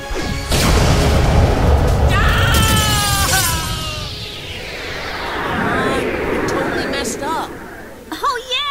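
A direct attack effect from the Yu-Gi-Oh! Duel Links video game, a loud booming crash with swooshing effects and crowd-like noise, under voices that talk and cheer.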